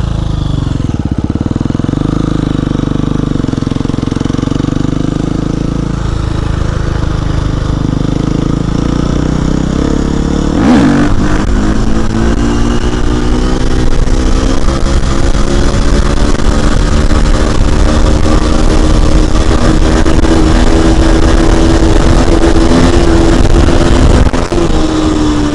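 Motorcycle ridden along a dirt track, its engine droning steadily at close range and rising in pitch through the second half as the bike picks up speed, with a loud bump partway through.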